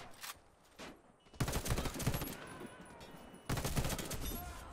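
Enfield L85A2 custom rifle gunfire in Warface on Nintendo Switch: loud bursts of automatic fire in two main stretches, with brief pauses between, plus a few earlier shots.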